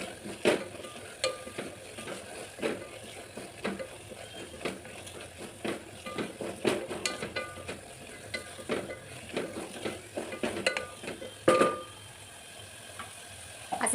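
Spinach (palak) paste cooking in oil in a pan, stirred repeatedly with a spoon, giving irregular scraping knocks over a soft bubbling sizzle, close and without talk.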